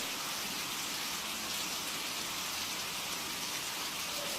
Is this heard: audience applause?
no